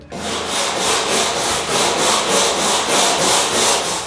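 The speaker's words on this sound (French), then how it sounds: "Je peux maintenant frotter les poutres des deux sections." Wooden beams in a workshop mezzanine are rubbed down with a loud, rhythmic back-and-forth rasp, about eight to nine strokes repeating evenly and close by.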